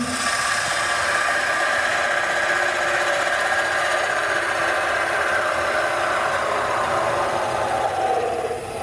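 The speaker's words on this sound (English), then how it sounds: "we'll just go in with my little parting tool" Wood lathe spinning slowed down as a small parting tool cuts into a turned wooden box to split it in half, a steady continuous whir and scraping hiss held at an even level throughout.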